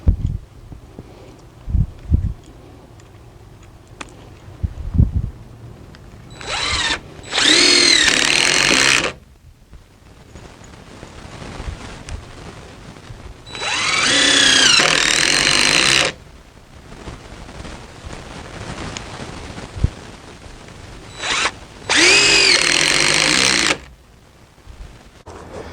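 A power tool drives bolts into the end grain of deck joists under a shed roof, running in three loud, sustained whirring bursts of about two seconds each, separated by quieter knocks and handling sounds.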